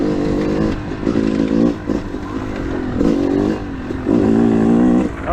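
Yamaha YZ 250 two-stroke dirt bike riding on a motocross track, its engine droning and revving steadily with repeated throttle surges, loud and close throughout with other bikes nearby.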